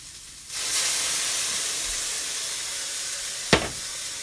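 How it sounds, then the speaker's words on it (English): Rice wine splashed into a hot pan during a Dungeness crab stir-fry, bursting into a loud hiss of sizzle and steam that holds steadily, with a sharp clank partway through. "I'm going to put a little shot of rice wine in here."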